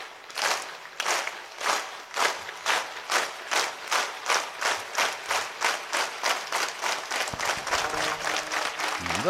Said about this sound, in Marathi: एक टाळी.